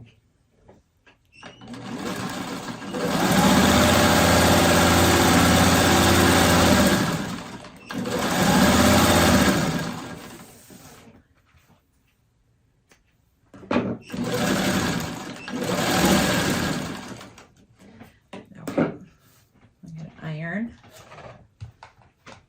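A sewing machine hums loudly up close as it stitches fabric pieces together, running in two long sustained bursts separated by pauses, with a voice talking quietly in the gaps and some handling clicks near the end.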